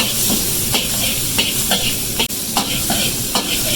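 Garlic with spicy and green peppers frying in hot oil produces a loud, constant sizzle, broken by regular spatula scrapes and clacks roughly every half second, up close.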